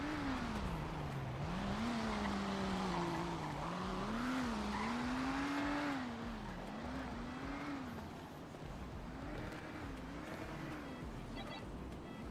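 A car in a roleplay video game drives hard with a continuous revving engine and tire squeal as it skids through turns, loud and unbroken across the clip.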